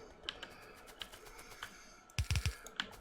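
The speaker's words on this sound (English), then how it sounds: "the mic finally got moved to the other side, so now you don't hear the keyboard as much" Computer keyboard keys clicking as they are picked up by a microphone across the desk, scattered light taps followed by a quick, louder flurry of strokes near the end, with no one speaking.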